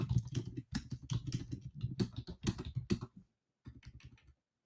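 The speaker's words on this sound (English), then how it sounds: "I'm typing in our chat." Rapid typing on a computer keyboard, close and crisp, a dense run of key clicks for about three seconds, a brief pause, then a shorter burst of keystrokes.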